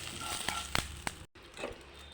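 Whole spices crackle in hot oil, tempering for a koi fish curry with new potatoes: a few sharp pops over a low, steady sizzle, broken by a brief gap, with no talking.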